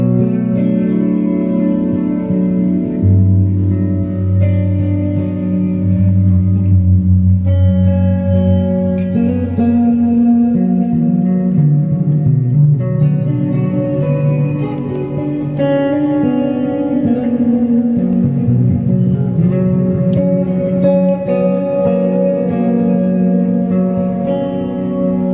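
Clean electric guitar chords and single notes ring out with a wide, washy reverb tail from Eventide pedals, played alone at a steady moderate volume.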